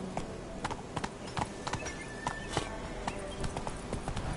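Roach the horse trotting in The Witcher 3, with quick, evenly spaced hoof clip-clops that sound close and clear over a faint background.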